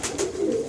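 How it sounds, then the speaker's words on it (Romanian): Racing pigeon cooing close by, two soft low coos in quick succession followed by a longer rolling coo, with no other sounds. "Acesta este un porumbel"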